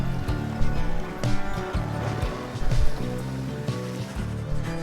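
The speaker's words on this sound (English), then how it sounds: "The wagon continues rolling gently across the waves" Waves lapping beneath a rolling wagon in the video game Pyre, a soft continuous wash of water with gentle surges, blended with steady background music.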